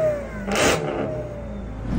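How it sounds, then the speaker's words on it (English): A Jeep Trackhawk SUV with a Whipple-supercharged 6.2 liter V8 and Corsa exhaust revs once in a short, loud burst, then settles back to a steady idle rumble. "it's paired up with the Corsa exhaust to scare everybody within a 20 mile radius of this car"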